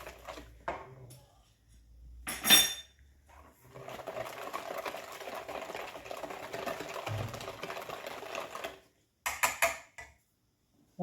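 Cake batter being mixed with liquid milk in a bowl: a steady, fairly quiet churning swish lasting about five seconds, with brief clattery knocks before it and a few sharp taps after it stops.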